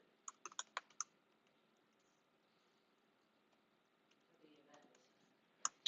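Quiet clicks of typing on a computer keyboard, a quick burst of keystrokes followed by a long pause, then a few more scattered taps and some soft faint shuffling.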